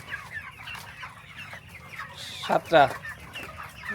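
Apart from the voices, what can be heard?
broiler chickens clucking on a farm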